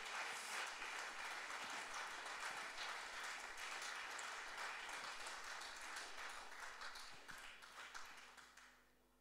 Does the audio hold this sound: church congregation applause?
yes